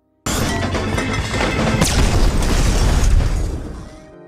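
A loud, sustained grenade explosion in a film roars with crashing debris, building over several seconds before fading out; no talking.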